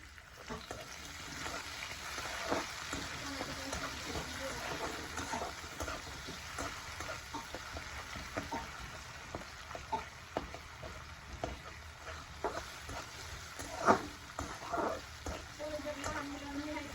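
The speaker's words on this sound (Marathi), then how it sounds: "कांदा परतला थोडं" Onion and tomato fry in a pan for kanda poha, a steady close sizzle with scattered pops and occasional scraping stirs running throughout, no one speaking.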